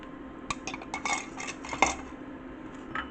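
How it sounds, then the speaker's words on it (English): Metal spoon clinking and scraping in a pot while stirring stock thickened with arrowroot starch for vegan gluten-free pretzel bread dumplings, a handful of sharp close knocks spread over a few seconds. "I'll just give it another quick stir."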